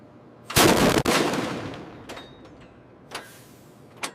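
A single loud, sharp blast from a Su-57 fighter's 30mm aircraft cannon with a roaring tail that fades over a second or two, then a few faint distant thumps.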